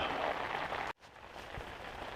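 Rain falling on a boat cover during a winter downpour: a soft, steady patter of drops on fabric, interrupted by a sudden brief cut to near silence before the faint dripping resumes.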